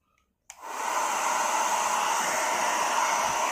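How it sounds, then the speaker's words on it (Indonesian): A hair dryer switches on with a click and then blows steadily at full power, a loud continuous rush of air with no speech over it. "Kita coba untuk hair dryer ini."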